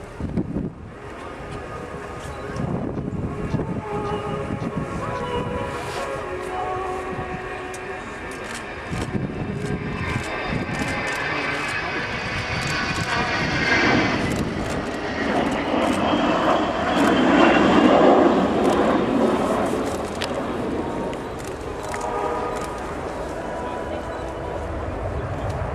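Avro Vulcan XH558 and its four Rolls-Royce Bristol Olympus 202 turbojet engines at an air tattoo, a loud sustained jet roar that swells and rises in pitch as it climbs, with a commentator talking over it.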